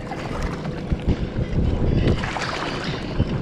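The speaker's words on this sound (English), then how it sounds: "If you can hear that wind, that is my fault." Wind buffets the microphone in gusty, rumbling bursts, a steady low roar outdoors at a lake cove while bank fishing, with no one talking.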